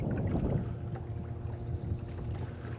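Low, steady drone of a fishing boat's engine idling as the boat creeps slowly in toward the bank at low speed, continuous and fairly close with light water and wind noise, no voices.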